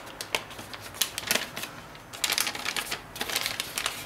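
Sheet paper being folded into an origami fox: soft, close crinkles and crisp rustling taps in irregular bursts, quiet and without voices.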